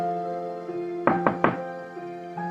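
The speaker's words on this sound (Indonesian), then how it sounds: "Mendengar ada yang mengetuk pintu beberapa kali" Three quick, solid knocks strike a door in close succession, clear and near, over a faint sustained musical hum.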